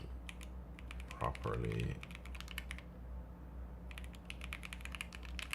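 Quick clicking keystrokes on a computer keyboard come in bursts with a pause in the middle, close and crisp, while a person speaks softly over a low steady hum.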